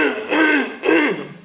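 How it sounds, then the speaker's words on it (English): Someone clears their throat twice in quick succession, close and loud, two short rasping bursts. "I need to clear my throat."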